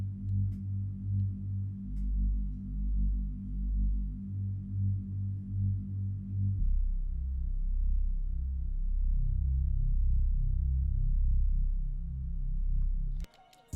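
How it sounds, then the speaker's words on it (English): A deep Serum bass from the Adapt Serum Bank, using the bass wave preset, throbs in low sustained notes with a rhythmic wobble, shifting pitch midway and cutting off abruptly at the end, with no other sounds. "I then layered that with a Serum bass from the Adapt Serum Bank using the bass wave preset"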